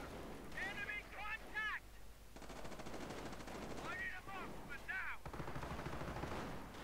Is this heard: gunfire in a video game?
yes